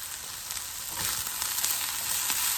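Turkey bacon and mushrooms fry in a pan with a steady, close sizzle that holds evenly throughout, with faint crackles and no talking.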